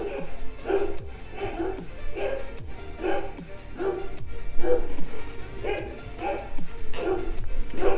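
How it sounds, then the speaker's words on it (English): Black Labrador dogs bark repeatedly at a steady, rhythmic pace, roughly a dozen deep barks from moderately close by. "Why are my dogs barking?"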